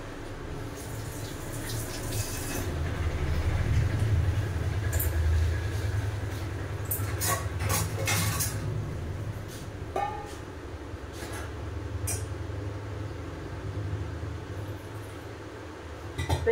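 Water poured into a pot on a gas stove, a rushing splashing stream for several seconds, loudest early on and then tapering, followed by clinks and handling noises of the pot, close and without talk.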